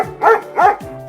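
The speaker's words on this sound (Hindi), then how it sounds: "शांत डॉगी, शांत हो जाओ।" A dog gives two close, sharp barks in quick succession, loud and alone with nothing behind them.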